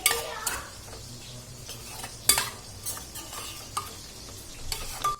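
A spoon stirs squid biryani masala in a metal pot, giving close repeated scraping and clanks against the pot over a soft steady sizzle.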